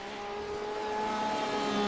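Race car engines in a sim racing video game at Laguna Seca, a sustained high-pitched engine whine with steady tonal harmonics, building slightly in loudness as the car accelerates, with no talk over it.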